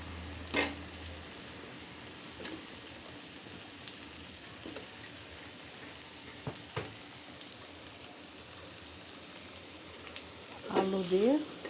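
Potatoes being added to a hot pan while cooking a fish-head curry with bean seeds give a soft, steady sizzle with faint stirring clicks, ending in a short louder clatter.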